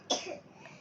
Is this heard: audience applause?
no